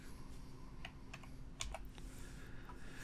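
Quiet, close taps on a computer keyboard: a few scattered keystrokes with one sharper click cluster midway, over a faint steady hum.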